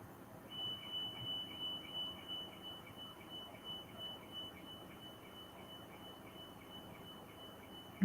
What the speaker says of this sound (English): Maybe some alarm going off.